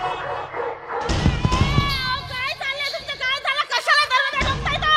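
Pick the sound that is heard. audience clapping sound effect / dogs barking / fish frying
dogs barking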